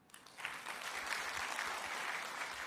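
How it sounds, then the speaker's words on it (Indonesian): Church congregation clapping together, starting with a few claps and quickly swelling into full, steady applause that continues evenly throughout, moderately close in a large room. "Tepuk tangan dulu."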